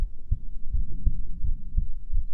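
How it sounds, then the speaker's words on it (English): A steady human heartbeat heard up close against a chest, soft low thumps recurring about every third of a second to half second with a faint hum beneath and no talking. "And maybe listening to my heartbeats can even help you fall asleep."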